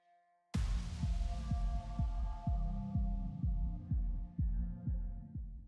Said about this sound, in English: I'm going to sew a straight stitch from here all the way to the other end